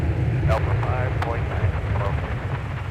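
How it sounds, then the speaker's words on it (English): A Boeing 717-200 lands with its bucket thrust reversers deployed, a heavy, steady roar of engine and rushing air at an airport, with radio chatter faintly audible over the rumble. "Those bucket reversers. Always fun to watch, the 717-200."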